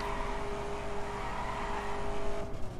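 A race car engine in The Crew video game drones at steady high revs, a constant whining tone with no talking over it.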